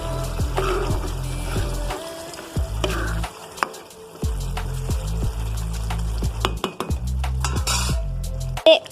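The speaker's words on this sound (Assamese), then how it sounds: "এতিয়া ধুনীয়াকৈ ভাজি থাকিম এনেকৈ" A spoon or spatula stirs food frying in a pan, making repeated metallic scrapes and clinks in an uneven rhythm with short pauses between strokes, close and clear, with no speech.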